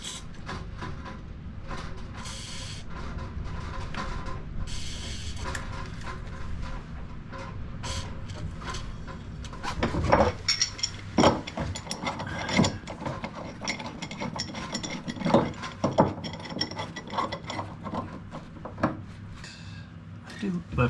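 Wrench working loose a badly corroded boat prop-shaft or thru-hull fitting: a run of sharp metallic clanks, ratcheting clicks and scraping knocks, close and intermittent, growing busier partway through.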